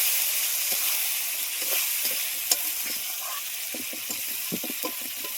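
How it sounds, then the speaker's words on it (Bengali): Crab being sautéed in spiced oil: a constant close sizzle broken by frequent scraping and knocking stir strokes in the pan, with no voices. "এবার দিয়ে দিচ্ছি কাঁকড়াটাকে। কাঁকড়াটা দিয়েও একটু ভালোভাবে কষিয়ে নেব।"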